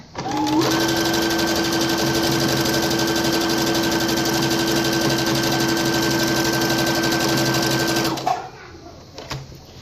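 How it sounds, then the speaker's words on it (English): A sewing machine runs continuously, stitching along the edge of a felt gift bag with a fast, even mechanical whir and a steady hum for about eight seconds, then stops abruptly, leaving brief handling noises. "I'm just stitching along the edge, and I have my needle in the middle position"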